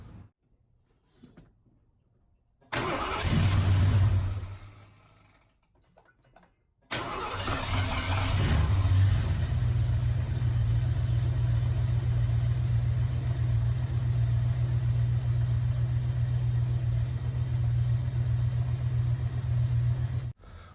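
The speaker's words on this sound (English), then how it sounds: "I think it's time to fire it up and see how it runs." A 1976 Ford 460 V8 with an Edelbrock intake cranks and briefly catches, falls quiet, then cranks again and fires into a steady, rumbling idle that continues to the end.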